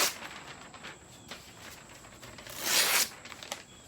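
Sheet of newspaper torn by hand while prepping for spray paint art on a surfboard: one brief, close ripping burst stands out from soft papery rustling and handling noise.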